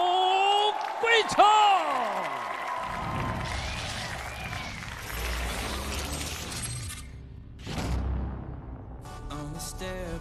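An arena crowd claps and cheers as a young Chinese kickboxer enters at a WLF China-versus-USA fight night. A loud announcer's voice and music come first, then a broad wash of crowd noise swells in two waves.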